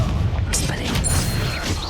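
A Confringo explosive spell blast bursts in Hogwarts Legacy during a fight with poachers, a loud booming impact that rings out briefly over a noisy combat background.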